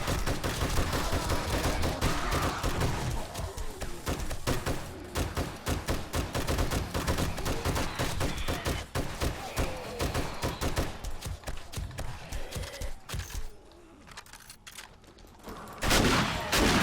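Rapid automatic gunfire from a junk turret in a desert survival video game, loud and sustained bursts of sharp shots for most of the stretch before dropping off briefly and resuming near the end.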